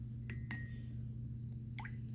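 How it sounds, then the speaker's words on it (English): A paintbrush rinsed in a glass of water gives a few faint glassy clinks and small drips, one brief ringing tap, all quiet over a steady low hum. "I also put this brush in the water"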